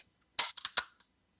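Staccato P pistol dry-fired with a sharp, crisp trigger click at close range, a loud single snap followed by a few quick fainter mechanical clicks and a small final tick, with no voices.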